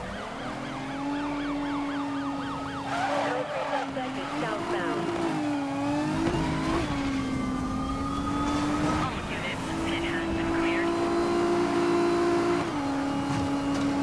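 A Nissan 350Z races at high speed in Need for Speed Most Wanted 2012, its steady engine drone mixed with wailing police sirens rising and falling. A voice talks over it now and then.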